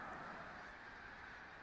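A big flock of geese honks in a dense, continuous outdoor chorus, the overlapping calls blending into a steady, fairly distant wash.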